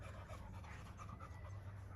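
A dog pants rapidly and steadily at close range, quick rhythmic breaths over a low background hum, with no talking.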